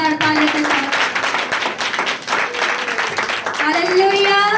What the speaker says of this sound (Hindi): तारीफ करें जोरदार ताली के साथ।